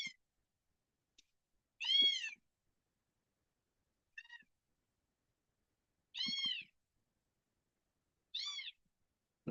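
A mother cat with three kittens meows in four separate, clear calls spaced a couple of seconds apart, with quiet gaps between them.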